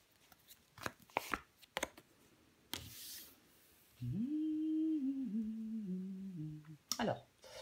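Tarot cards laid out and handled during a reading: several short sharp slaps and rustles of cards on a surface in the first three seconds, then a voice talks over faint shuffling toward the end.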